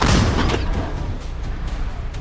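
A single heavy gunshot bursts out at the start, its low boom rolling into a lingering rumble that fades over the next couple of seconds.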